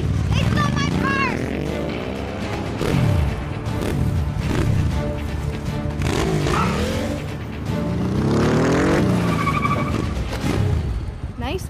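A stolen car speeds away in a commercial, with engine revs, rising and falling tones of passing vehicles and skidding, loud and close, mixed with voices talking over it.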